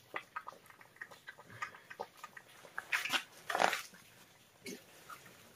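A young Labrador puppy drinking water, soft irregular lapping and slurping close by, with small snuffles and one louder burst midway, no talk.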